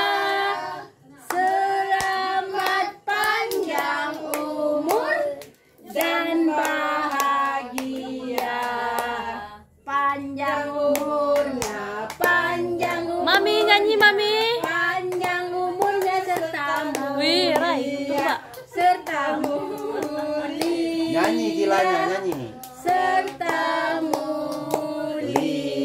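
Hands clapping at a one-year-old's birthday party, a run of sharp claps mixed under steady group singing and voices, continuing through most of the stretch.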